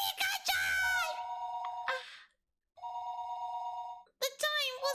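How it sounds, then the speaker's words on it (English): A telephone in the Higurashi visual novel video game rings loudly in two long electronic trills separated by a short silence, with bursts of a dramatic voice at the start and the end. "Her phone would be ringing constantly though"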